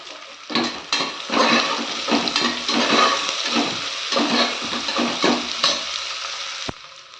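Onion and garlic sauté in a pan, a loud steady sizzle with rhythmic stirring strokes scraping through it, close up with no talking, before ending abruptly.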